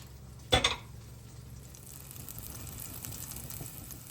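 A potato pancake sizzling in a pan, opening with a single sharp clack of a fork pressing it flat, then a steady soft frying hiss that continues alone.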